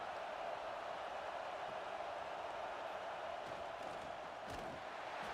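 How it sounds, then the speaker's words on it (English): Stadium crowd noise in an American football video game, a loud, steady, broad roar of many voices swelling without break, with no commentary over it. "This crowd rising up, sensing that its defense needs some help."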